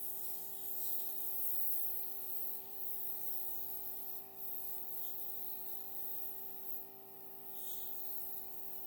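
An airbrush sprays makeup onto a client's face in a steady, soft continuous hiss with a faint constant tonal hum, close and quiet, lasting throughout with slight swells.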